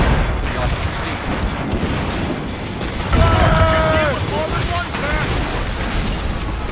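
Ship mortar and cannon fire from naval combat in Assassin's Creed Rogue: heavy booming blasts with roaring rumble. Voices shout over the battle and a louder impact lands partway through.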